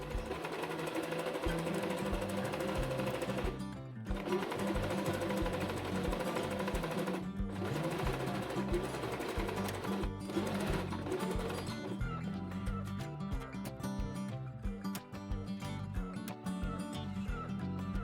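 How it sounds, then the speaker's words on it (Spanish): A sewing machine runs a straight stitch of length 3 along both long edges of a fabric strip for a bag flap. The motor whirs in steady runs, briefly pausing twice before stitching continues close by. "Pasa a la máquina de coser y cose ambos extremos largos de la tira que soportará la solapa del bolso."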